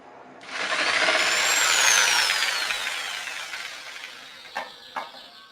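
A Modern M 2200L jigsaw cuts through 2 cm thick wood, its motor spinning up into a loud, steady buzzing whine that slowly tapers off, followed by two sharp knocks as the tool settles.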